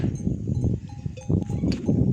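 Cows graze close by in an autumn countryside campsite. Muffled bells clank irregularly, with low rustling and shuffling movement nearby and a brief metallic ring.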